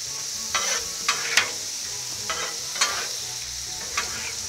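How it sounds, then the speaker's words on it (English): Shrimp and sirloin steak cook on a Blackstone griddle with a constant sizzle, broken by several short, crisp spatula scrapes spaced a second or so apart. "Let that shrimp cook."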